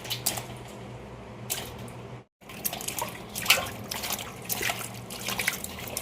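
Soaked mung lentils are rinsed in water in a kitchen, with close splashing, dripping and squishy swishing of wet grains, continuous apart from a brief silent gap, with no talk.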